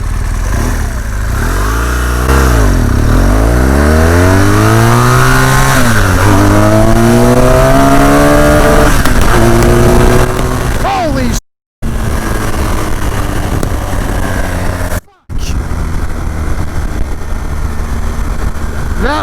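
BMW R 1200 GS Adventure motorcycle accelerating hard through the gears, engine rising in pitch with several gear-change dips, loud and close with wind roar, as a rider talks over it.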